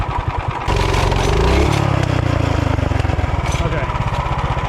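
An off-road drift kart engine runs loud and close, a rough buzzing small-engine idle that revs up briefly, then settles into a steady pulsing putter, with a voice heard over it.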